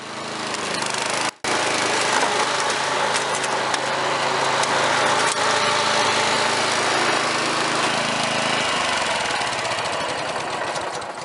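A lawn dethatcher runs a test pass on a lawn, with a loud, steady engine roar and rough raking clatter. There is one brief cut-out near the start, then continuous running.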